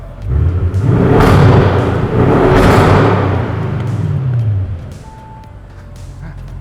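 A Corvette C7 engine without a particulate filter gives a loud, deep rumble, swelling with a revving surge before settling back to a steady idle.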